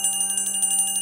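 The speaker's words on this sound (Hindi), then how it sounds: "अगले दिन गांव में घंटी बजती है।" A bright metallic village bell rings rapidly in a quick series of strikes, clear and close, with no voices.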